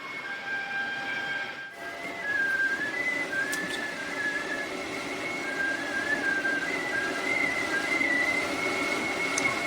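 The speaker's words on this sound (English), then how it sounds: "Some hacks muffled the sound, others turned vents into wind instruments." Air forced through fan vents rigged as wind instruments, an experimental interactive sound piece, produces a thin sustained whistling tone that bends and wavers in pitch over a constant airy rush, starting after a brief near-silent moment.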